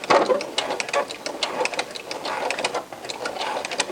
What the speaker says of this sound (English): I'm just going to go ahead and sew up to that elastic to catch it in with the needles